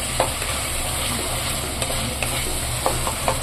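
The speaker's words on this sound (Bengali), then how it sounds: "আবার মশলাটাকে ভালো করে কষিয়ে নেব" Spice paste being stirred and fried in oil in a pan, with a steady sizzle and scattered scraping stirs of a spoon, close and moderately loud, no talking.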